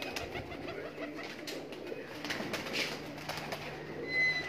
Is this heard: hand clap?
no